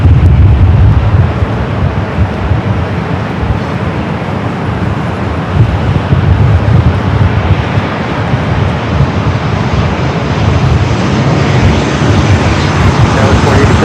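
A Southwest Boeing 737-700 arriving at LAX roars steadily and loudly in a broad engine rumble, with wind buffeting the microphone and faint voices underneath.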